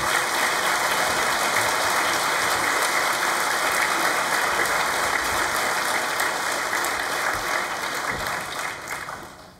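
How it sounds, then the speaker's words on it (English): A crowd at a college graduation ceremony claps loudly and continuously for the college staff, a thick, even roar of applause that holds for nearly ten seconds before starting to taper at the end. "Can we have a round of applause for all of the staff that do here?"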